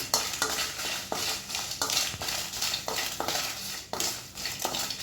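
Six dried red chillies roasting lightly in oil in a pan for an iron-rich curry leaf powder, heard as a steady sizzle under repeated scraping and clinking of a metal spoon against the pan.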